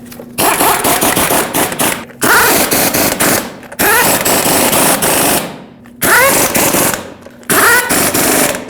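An impact wrench runs lug nuts onto the rear wheel of a 2009-2010 Dodge Ram 1500, giving five loud, close rattling bursts, each about a second or more long, separated by short pauses.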